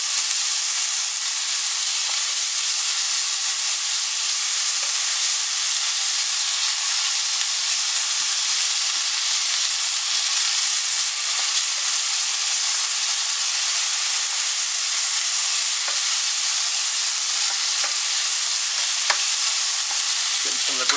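Mushrooms and onions seasoned with salt and black pepper fry in a pan, giving a steady unbroken sizzle with occasional light scraping and stirring taps.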